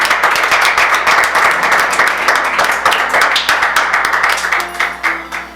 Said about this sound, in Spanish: Un aplauso a Cristo, aleluya.